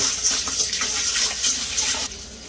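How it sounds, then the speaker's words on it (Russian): Tap water runs steadily over oats being rinsed for oatmeal porridge, a close, continuous splashing gush that drops slightly in level near the end, with no talking. "Овсяночку нужно промыть в воде"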